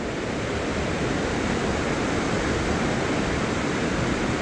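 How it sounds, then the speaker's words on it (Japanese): A rushing torrent at a waterfall in Hokkaido roars as a loud, dense, unbroken wash of water noise with no voices. "激流の滝だそうですね。"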